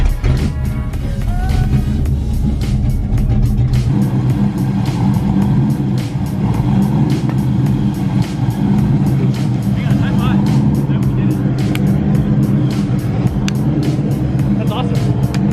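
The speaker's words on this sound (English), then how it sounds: "Okay, so car runs." A Ford Foxbody 5.0 drift car runs with a steady, loud low engine rumble throughout, close up, while people talk over it.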